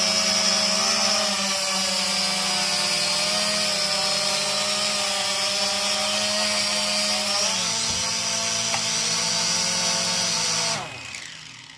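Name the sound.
SJRC S30W GPS drone motors spinning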